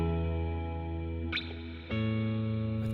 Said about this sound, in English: So let's start with Reverb, and here is what it does